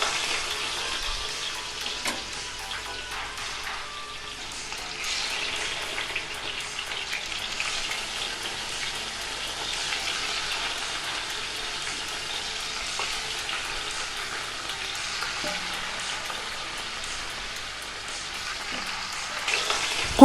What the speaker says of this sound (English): Add marinated mutton.